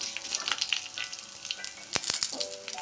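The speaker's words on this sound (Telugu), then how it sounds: "అల్లం వెల్లుల్లి వేసేసుకుంటున్నాం. సో మరొక 20 సెకండ్లు ఇలాగే లో ఫ్లేమ్లోనే వేయించుకుందాం." Ginger garlic paste frying over a low flame, a faint crackle with scattered light taps and scrapes of stirring, quiet and close.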